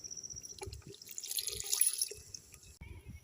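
Boiled milk is poured into a pot of wheat rava payasam, making a faint, close liquid trickle and splash with a few soft drips, and no one speaks.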